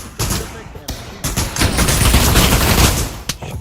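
Rapid, loud gunfire in the VR shooter game Pavlov, with dense bursts of shots running almost nonstop for several seconds and a few brief gaps. A voice talks faintly underneath.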